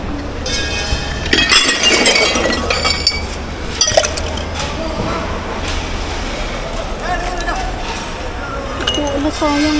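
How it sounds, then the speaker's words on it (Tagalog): Glass kitchenware, a pre-owned IKEA or H&M piece, breaks amid clinks and rattles of other dishes and stainless items being sorted, with a sharp burst of shattering near the start, close and loud, while people talk throughout. "nabasag."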